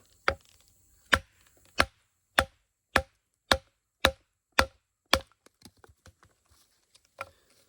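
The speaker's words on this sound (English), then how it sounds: "Let's go ahead and do some cross grain batoning here" Cross-grain batoning of cedar with a Dawson Reaper knife: about eight sharp, evenly spaced wooden knocks close by, followed by a few quieter taps and one last strike.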